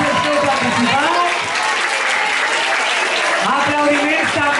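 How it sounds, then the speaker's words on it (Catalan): Sustained applause from a seated audience at a 2025 poetry recital, loud and continuous for several seconds with dense hand claps and a slight dip midway. "Fort aplaudiment per a tots els que heu participat."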